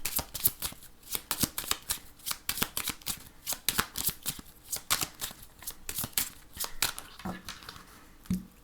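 Lenormand oracle cards being shuffled by hand, a close, continuous run of rapid riffling card flicks and slaps for several seconds.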